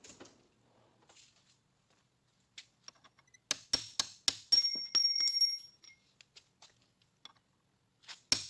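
A hammer strikes metal during repair work on a Mopar Magnum engine fitted with a big-block dual sync distributor, giving several sharp ringing blows in a quick run, then a few scattered lighter taps amid quiet pauses.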